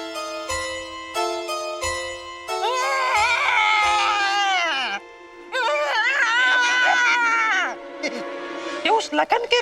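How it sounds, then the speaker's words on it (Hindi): An eerie crying sound effect from a haunted scene in a TV drama: sparse tonal notes give way to two long, wavering wails, loud and close, separated by a brief pause and ending in short sobbing bursts. "फिर रोने की आवाज आने लगी"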